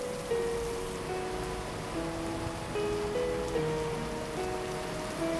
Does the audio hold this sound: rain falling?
yes